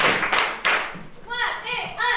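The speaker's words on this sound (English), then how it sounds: "Clap it up!" Students in a classroom clap in call-and-response rhythm, a few sharp claps early then quick patterned clapping, with children's voices mixed in.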